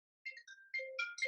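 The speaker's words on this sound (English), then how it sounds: "That was a phone call." A short phone call notification chime plays alone: a quick sequence of bright electronic tones rising and falling in a melodic pattern, clean and moderately quiet against silence.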